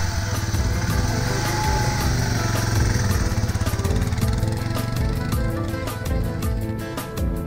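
Motorcycle engines droning steadily while riding on the Pamir Highway, a loud, continuous buzzing rumble with rapid firing pulses, close and dominant throughout with no voices.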